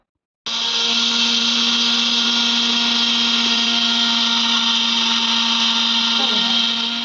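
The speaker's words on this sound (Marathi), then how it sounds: "आपण अर्धा कप साखर मिक्सरच्या भांड्यात घालून पहिले बारीक करून घेऊया" An electric mixer grinder pulverises half a cup of sugar, its motor switching on abruptly into a loud, steady, high-pitched whirring drone that runs on without a break.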